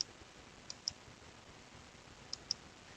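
Sharp, faint computer mouse clicks sound over quiet room noise, a few isolated taps spaced unevenly with a pair close together near the end.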